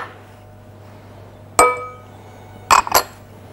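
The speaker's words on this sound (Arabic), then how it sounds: "هجيب بول اخلط فيه السكر والكاكاو مع بعض" Utensil clinks against a bowl while powdered sugar and cocoa are mixed, with one sharp ringing strike followed by a quick double clink, close and bright over a low steady hum.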